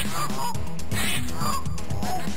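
Geese in a video game honk repeatedly in short nasal calls over steady game music and effects, the calls spread through the moment at close range.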